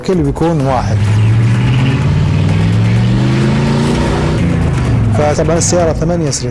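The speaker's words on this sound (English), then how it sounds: "here's a Trans-Am 1981. It's a car that kept the same style from 1971 till 81. It's an 8-cylinder." A 1981 Pontiac Trans-Am with an eight-cylinder muscle car engine revs loudly, the pitch rising and falling in a sustained surge through the middle while someone talks over the start and end.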